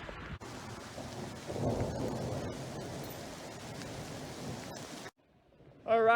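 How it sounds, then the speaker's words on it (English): Heavy rain drums down hard during an outdoor thunderstorm with lightning, camped under trees while backpacking in the Weminuche Wilderness. The rain roars steadily with low thunder, then cuts off abruptly near the end. "We got massive lightning out there. It's dumping rain."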